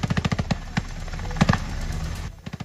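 Rapid bursts of gunfire during an army operation in La Macarena, Meta, Colombia: a quick string of sharp shots, then scattered single cracks and a short pair near the end, loud and close.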